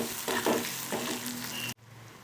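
Finely chopped onions sauté in a pan, producing a close, steady sizzle with a couple of stirring scrapes before the sound cuts off abruptly to quiet near the end.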